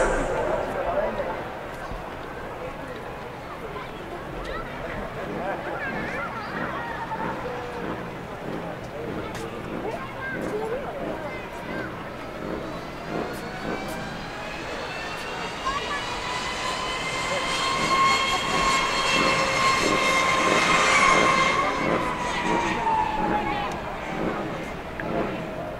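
A Mugen Shinden electric racing motorcycle accelerates past at the Twin Ring Motegi circuit, its rising, whining electric drive swelling loud as it nears and then fading away. A commentator talks over it.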